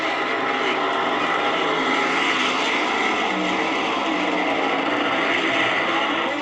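Top fuel drag cars at a 1971 Pennsylvania quarter-mile strip produce a dense, steady roar of engine noise that stays loud and unbroken throughout, with no voices.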